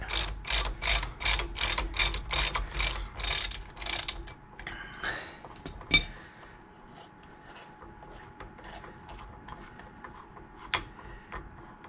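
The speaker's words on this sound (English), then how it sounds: "So now when I pull this nut off, it'll just pull the nut off the outside of it." Rapid ratcheting of a wrench loosening the pinion nut on a GM 14 bolt axle, a fast burst of clicks for about four seconds, then scattered metallic clinks and taps from the nut and yoke.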